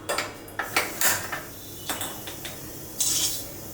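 A metal kadai is set down on a gas stove in a home kitchen, giving several sharp clanks and scrapes of metal on the burner grate, close and moderately loud, with no talking.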